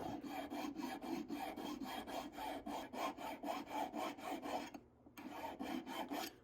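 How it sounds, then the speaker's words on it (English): A hand file rasps back and forth on a metal ring liner during ring forming, filing both sides square at once; steady close strokes in even rhythm, with one brief pause before the strokes resume. "I wanna be filing square to this piece so that this liner fits in there nicely."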